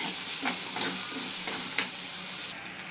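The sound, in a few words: onions and drumsticks frying in oil, stirred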